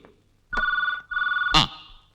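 A telephone rings in a film scene with two electronic trilling bursts, each about half a second long, loud and close, followed by a brief clunk as if the receiver is picked up.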